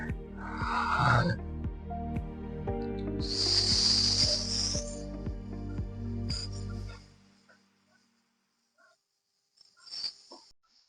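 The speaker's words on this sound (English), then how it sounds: "You want to hold it, then release it gradually through your mouth as well, using the sounds." Someone doing a breathing exercise slowly releases a held breath through the mouth as a soft, drawn-out hiss. Steady sustained tones play beneath it, and the sound fades to near silence with a faint later puff.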